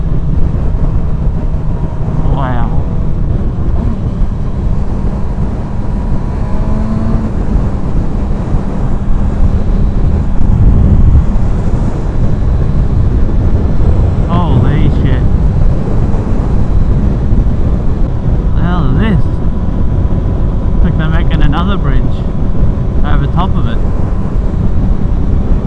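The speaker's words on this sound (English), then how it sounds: "I don't know if you can hear me because it's pretty windy" Strong wind buffeting a helmet microphone while riding a motorcycle in South-East Queensland, a constant loud rumbling roar throughout, with brief faint voices and squeaks poking through.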